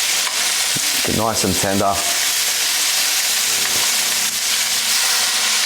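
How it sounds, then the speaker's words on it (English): Filet mignon sizzles in a hot pan while being basted with melted butter: a loud, continuous hiss and crackle with brief spoon scrapes, and a voice speaks over it. "What we want to do now is called basting the meat."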